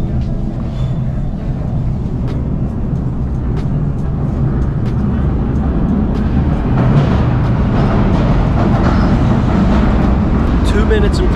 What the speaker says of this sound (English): I think I hear the next train.